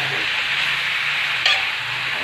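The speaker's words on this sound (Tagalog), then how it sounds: "Habang ginigisa po ang ating beef, at pinapalambot" Beef sautéing with plenty of garlic and onion for creamy beef caldereta, a steady close hiss of frying with one brief louder stir-and-clatter burst midway, no speech.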